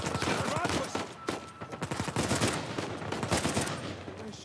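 Rapid bursts of gunfire from rifles in the video game Uncharted 4: A Thief's End, set in Madagascar, crackle densely at mid distance, layered shots overlapping in a fusillade with faint voices underneath.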